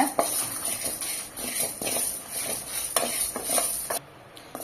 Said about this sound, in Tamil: இதை லோ ஃப்ளேமில் வச்சே வறுத்துக்கோங்க நல்லா பொன்னிறமா வர வரைக்கும் வறுத்துக்கோங்க